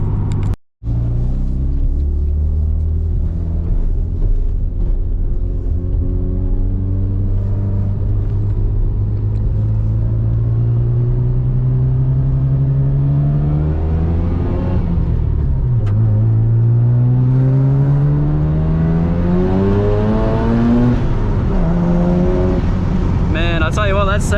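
Mazda RX7 Bathurst R (FD) twin-turbo rotary engine pulls hard through the gears from inside the cabin, a loud droning rumble rising in pitch with each gear, dipping at shifts and climbing again, with a brief silence at the start.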